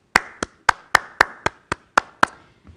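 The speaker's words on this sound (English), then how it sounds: "I want you to clap your hands." A single pair of hands claps nine times in a steady, even rhythm, sharp and close, with nothing else around it during an English conversation lesson.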